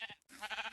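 Sheep bleating in the video game Minecraft: a short, fairly quiet bleat, then a brief pause and a second bleat, with no talk over it.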